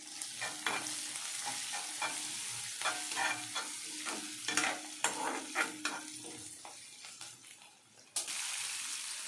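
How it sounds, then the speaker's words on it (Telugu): Mango dal going into a hot pan in a Telugu kitchen, with a sharp sizzle and repeated scraping stirs of a spoon against metal, crackling close and loud, then a burst of steady frying near the end. "మామిడికాయ పప్పు బాండీల్లో వేస్తున్నానండి"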